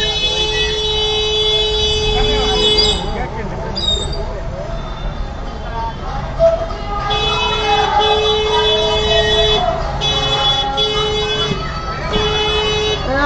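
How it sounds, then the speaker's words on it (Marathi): Auto-rickshaw horns honk repeatedly in slow, crowded Pune city traffic during the Ganpati festival season. The loud, tonal toots repeat in bursts against a steady rumble of vehicles. "पाठीमागं रिक्षावाला किती हॉर्न वाजवतात"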